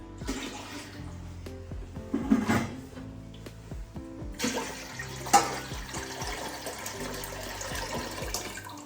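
Three litres of water poured into a cooking pot for mutton biryani, a steady splashing gush that swells and fades over several seconds, close by, with no talk.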